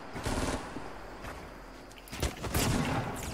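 Fortnite Battle Royale gunfire crackles in quick bursts and scattered shots amid dense game noise, with a louder cluster of blasts near the end.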